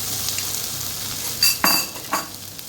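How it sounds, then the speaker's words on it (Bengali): Spices fry in a pan for a lemon coriander noodle snack, giving a soft steady sizzle with a few sharp metallic scrapes and clinks of stirring near the end, close by, with no talking. "মশলাটাকে আরেকবার একটু ভালো করে ফ্রাই করে নেব"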